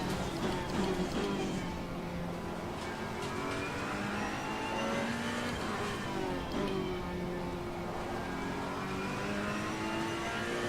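Race car engine in Assetto Corsa Competizione at the Nürburgring, a continuous mid-pitched whine with shifting revs and a tonal tire squeal sliding up and down under it, steady and close.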